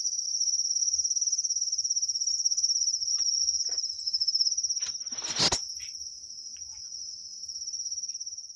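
Crickets chirp loudly and continuously up close in a cage, a shrill steady trill, interrupted briefly by a sharp knock or rustle partway through.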